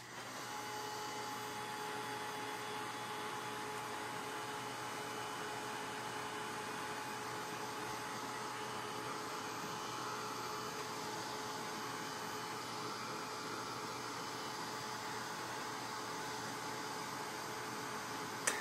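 A heat drying tool blows air steadily over chalk paste on a blue glass container, a constant close whooshing whir that holds without a break for almost nineteen seconds.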